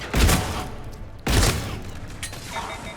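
The Katana shotgun fires in the video game Mass Effect 3: two heavy, booming blasts about a second apart. Each blast is followed by a short decaying tail and faint mechanical clicks.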